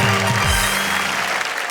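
Applause breaks out from the audience at a Hindi comedy poetry show, brisk clapping that rises quickly and carries on at full strength under a brief voice.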